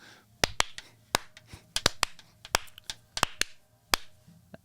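Sharp claps land in an uneven rhythm during the half-time middle-eight breakdown of a song, about a dozen crisp hits over a quiet backing, some louder than others.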